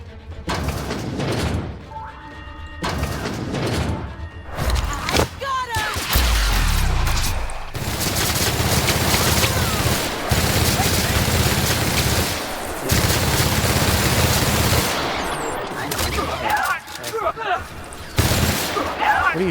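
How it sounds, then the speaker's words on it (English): A firefight in The Outer Worlds video game around a manor with its security activated: sustained rapid gunfire and heavy booms layered over game ambience, with bursts coming and going. "What are you shooting at?"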